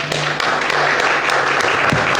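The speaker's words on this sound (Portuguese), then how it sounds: "pois o Senhor Jesus, uma linda salva de palmas." Brief, steady clapping from a church congregation during a worship service, a dense wash of applause lasting a couple of seconds with a low hum underneath.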